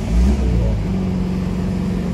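A 2021 Mini John Cooper Works Countryman's engine gives a short, loud burst of revving near the exhaust, then settles into a steady low rumble with no talking.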